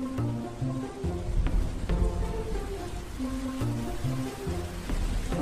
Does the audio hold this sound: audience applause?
no